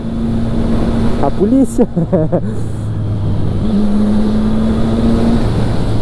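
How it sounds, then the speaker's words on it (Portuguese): A Triumph Street Triple 675R motorcycle with a straight-through exhaust holds a steady, droning engine note throughout, with someone speaking briefly over it near the start. "O ronco da moto saindo no escapamento diretão."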